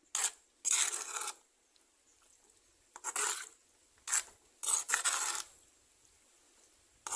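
Bitter gourd curry being stirred by hand in a pan after a drizzle of raw coconut oil, giving several short scraping, rasping bursts separated by quiet gaps, close and fairly soft, with no talking.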